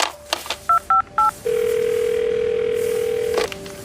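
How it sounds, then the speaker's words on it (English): Three short touch-tone beeps are followed by a long steady phone tone, then a click and a change in tone; quiet, close, no voices. "Cradling the phone under his chin, Williams calls his wife."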